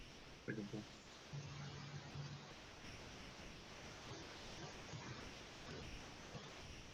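Steady rushing water noise from a washing machine hisses in the background throughout, faint and continuous, with brief low tones from a voice breaking through.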